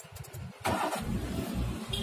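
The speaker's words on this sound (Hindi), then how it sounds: "अब ये गाड़ी स्टार्ट हो गई है, पेट्रोल पे ही रहेगी।" A car fitted with an LPG changeover switch, set to run on petrol, cranks briefly and then starts, its engine settling into a loud, steady idle close by.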